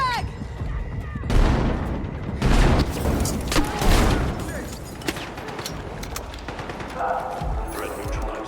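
Battlefield 6 campaign combat: a frag grenade blast and bursts of gunfire with heavy booms and crashes, loud and close, dense broadband impacts clustering around the middle, with shouted voices woven through the chaos.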